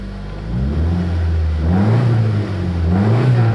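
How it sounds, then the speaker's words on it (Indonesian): A 1993 Mitsubishi Lancer Dan Gan with automatic transmission revs up from idle, its engine note climbing and falling in two strong swells, loud and close, with no talk over it. "Coba kita gas-gas yuk."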